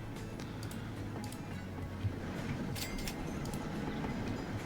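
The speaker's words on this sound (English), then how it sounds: "We can unstop the train, let it pull into the station." Train pulling into a station in the video game Transport Fever 2, a low steady rumble with faint rhythmic clicks and soft ticking, heard alone at a modest level.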